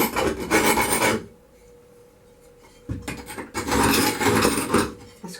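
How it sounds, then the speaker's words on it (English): Two rough rasping scrapes across the edge of a stained glass piece, each about a second or more, separated by a short quiet pause, close and fairly loud with no talking. "Just give it a quick scrape."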